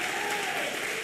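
Church congregation applauding at an online Sunday worship service, a dense, continuous burst of many hands clapping filling a short moment.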